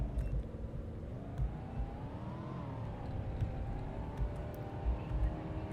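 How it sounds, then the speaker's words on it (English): Car engine sound effects in a first-person video game, a steady rumbling drone with rising and falling revs as the car drives, heard alone without talk. "You'll hear the sound effects of the car, just listen to it for a second."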